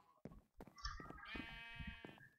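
A Minecraft sheep bleats in a long, wavering cry after a few short game sounds, fairly close and clear, with no talk over it.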